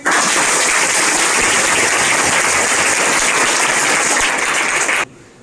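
Loud, dense applause from a student audience at a career guidance event, sustained steadily for about five seconds before cutting off abruptly.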